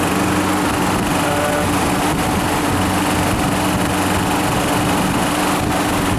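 A weak refrigeration compressor runs with a steady, close mechanical hum and drone that holds without change for the whole stretch, with no talking.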